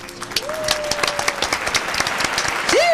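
A radio show studio audience clapping to welcome a guest, loud close claps and cheering building steadily, with a whistle-like tone sliding up near the start and a rising squeal at the end.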